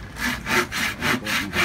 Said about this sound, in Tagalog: Kung naglalagari, kailangan dahan-dahan para hindi mabigla yung kahoy.